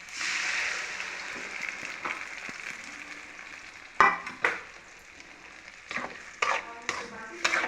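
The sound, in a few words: masala poured into sizzling oil with sautéed onion, garlic, ginger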